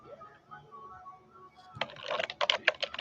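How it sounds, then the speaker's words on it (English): Quiet murmur of a voice gives way to a burst of rapid keyboard typing, clicky keystrokes close by for the last second and a half. "Typing."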